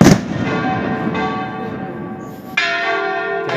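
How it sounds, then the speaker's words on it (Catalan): Church tower bells ring in full peal for the morning procession of San Miguel, the patron saint's feast, loud and close with overlapping strikes and long ringing tones, a fresh clang marking each new swing. "Les tres campanes que hi ha en la torre."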